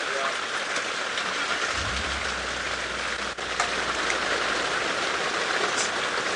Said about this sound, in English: So sorry Chris, the rain is so hard I can't hear you